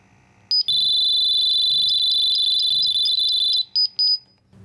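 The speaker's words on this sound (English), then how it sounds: "A countdown will appear, followed by continuous beeping and flashing lights." An ION Science Tiger XT gas detector emitting a continuous high-pitched electronic tone during its power-off countdown. The loud steady beep holds for about three seconds, then gives a couple of short separate beeps and stops.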